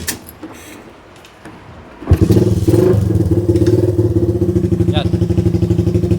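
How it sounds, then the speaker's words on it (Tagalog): A Raider 150 motorcycle engine fitted with a racing CDI starts after a quiet moment, then idles close and loud in a steady, pulsing thrum, with a voice briefly audible over it. "Paandarin natin kung maganda yung response sa motor natin."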